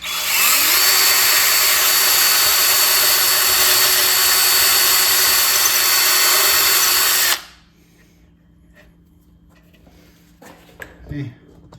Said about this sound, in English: I'm just going to use my little drill bit here to drill these holes out.